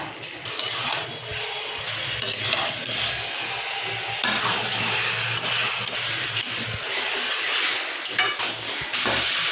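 Chicken masala curry is stirred in a pan, producing a continuous scraping and sizzling clatter with occasional louder scrapes. No voice is heard over it.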